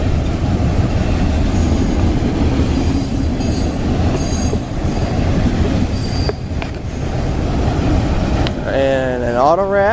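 A Florida East Coast freight train with rock and intermodal cars rolls past in Boca Raton, a loud continuous rumble with rattling wheels, squealing flange noise and a horn-like whine near the end, voices faintly underneath.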